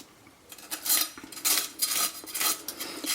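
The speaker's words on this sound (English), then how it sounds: "So to remove the scales, we have to move the knife from the tail towards the head." Knife blade scraping scales off a fish, drawn from tail toward head in a series of bright rasping strokes, close up and fairly loud, with no talking.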